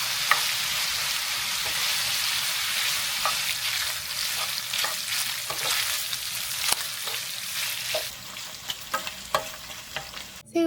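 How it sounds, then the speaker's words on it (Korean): Smoked duck and shrimp stir-frying in a pan, a steady loud sizzle with repeated scraping clicks from the stirring utensil, heard up close with no voices. "이제 훈제오리도 볶아줄게요."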